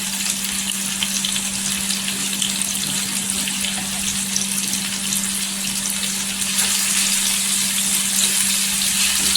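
Taro root (arbi) frying in hot oil, a steady dense sizzle with a constant low hum underneath, growing slightly louder partway through, with no talking.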